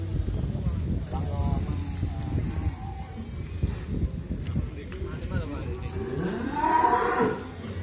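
Cattle at a busy Indonesian livestock market moo loudly nearby, a low drawn-out bellow swelling near the end over constant crowd chatter and market bustle.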